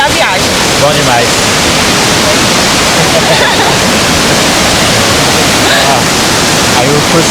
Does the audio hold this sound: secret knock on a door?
no